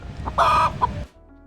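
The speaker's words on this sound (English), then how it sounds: "The chickens at our farm are safe and sound." A chicken lets out a loud, drawn-out squawking cluck, followed by a shorter cluck, close by before fading to quiet background hum.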